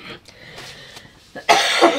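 A single sharp, loud cough bursts out at the end, preceded by a brief throat noise and faint breathing in a quiet room.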